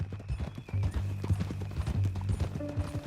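Horse hooves clip-clopping at a steady walking pace in the video game Red Dead Redemption 2, close and moderately quiet with creaking tack and a faint low background hum.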